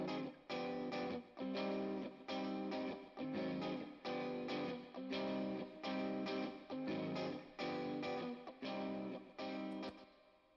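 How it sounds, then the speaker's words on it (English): Distorted electric guitars strum chords in a steady, chugging rhythm, layered and fairly quiet, with no voices. "those are the guitars"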